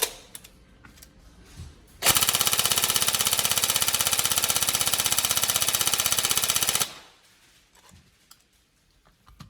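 A Tokyo Marui 416D NGRS airsoft electric gun with an upgraded build fires a long full-auto burst lasting about five seconds, a loud rapid buzzing rattle with a sharp start and stop amid quiet surroundings.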